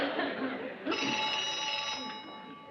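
A telephone rings in a 1960s sitcom office scene, a bright electronic-sounding ring sustained for about a second amid light background chatter.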